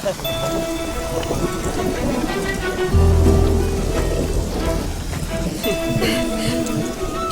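Steady heavy rain pouring down close by, with a low rumble of thunder partway through.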